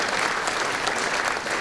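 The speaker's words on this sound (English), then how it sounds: "The community development team would like to give them a huge applause." An audience at a city State of the City event applauds, a loud, dense burst of clapping that carries on steadily from start to finish.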